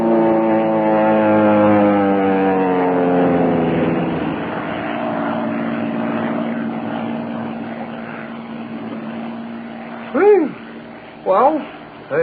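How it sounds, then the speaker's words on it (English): Propeller airplane in a power dive overhead as a radio drama sound effect, a loud engine whine sliding downward in pitch as it passes, then fading, followed by brief voices. "That plane is coming down awfully fast. Yes, it's coming right over us. Sounds like a power dive."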